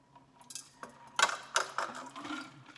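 A Two Barrel Flip cocktail is poured into a glass, with a short burst of splashing liquid and a few bright clinks of glass and ice, close and fairly loud, with nothing else in the background.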